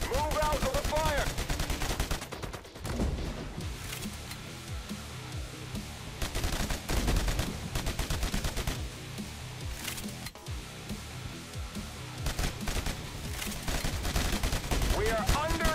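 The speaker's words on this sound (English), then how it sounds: "We are under gunfire!" Video game gunfire played on a mini PC: rapid bursts of automatic weapon fire and sharp shots, loud and continuous for the whole stretch, with brief gaps between volleys and game voices mixed in.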